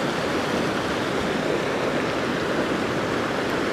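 Fast-flowing river water rushes in a steady, dense wash of noise, close and fairly quiet, with no voices.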